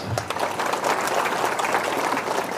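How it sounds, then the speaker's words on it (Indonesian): An audience at a political campaign gathering breaks into steady applause, a dense, continuous patter of many hands clapping at moderate loudness throughout, with faint crowd murmur beneath. "Tepuk tangan."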